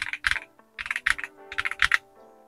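Keystrokes on a Keychron V3 Max keyboard with Jupiter Banana switches and a polycarbonate plate, heard in three quick bursts of crisp, close clacks with short pauses between them, alone and without any talking.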